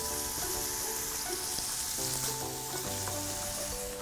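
Steak searing in a hot pan with olive oil, a loud steady sizzle and crackle with no talking.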